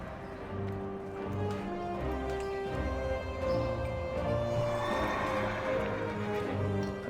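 A horse whinnies in the game World of Warcraft over a bed of layered background music, with faint hoof clip-clops underneath.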